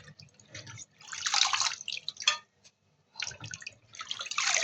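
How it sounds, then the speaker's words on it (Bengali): Stem amaranth greens being washed by hand in water, with bursts of splashing and dripping that come and go in uneven waves, close and moderately loud, separated by short quiet pauses. "তো দেখুন এই যে এখানে আমি শাকটা ভালোভাবে ধুয়ে নিচ্ছি"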